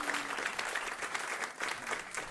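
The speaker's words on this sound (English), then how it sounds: "Round of applause as they leave" A conference audience applauds as panelists leave the stage after a food-waste climate panel, a steady, moderately loud wash of many hands clapping without a break for a couple of seconds.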